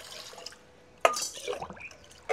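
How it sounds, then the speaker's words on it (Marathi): Water is poured into a pressure cooker sitting on a wood-fired clay stove, giving a short burst of splashing and dripping midway through an otherwise quiet moment. "चुलीवर कुकर ठेवून घेऊ, त्यामध्ये पाणी टाकून घेऊ।"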